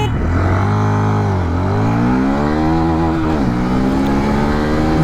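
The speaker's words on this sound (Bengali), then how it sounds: "চলুন এবার আমরা এটার যে অ্যাক্সেলারেশন টেস্ট ওটা করে নিই" Hero Xtreme 160R 4V motorcycle from 2024 accelerating hard from a standstill, its engine note loud and close, rising through the gears in repeated sweeps with brief dips at each shift, running continuously for about five seconds.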